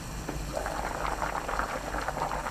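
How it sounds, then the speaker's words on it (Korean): Seaweed and tofu soybean-paste soup boils hard in a lidded pot, a close, continuous bubbling and gurgling with quick, irregular pops. "팔팔 끓으면 그때부터 1분 30초 더 끓여주세요"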